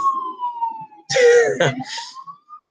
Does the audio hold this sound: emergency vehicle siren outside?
yes